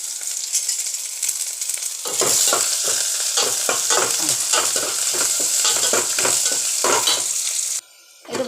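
Fenugreek seeds, onion, dried red chillies and curry leaves frying in hot oil in a pan, with a loud, steady crackling sizzle and rapid popping that jumps up sharply as ingredients hit the oil, close and without talk.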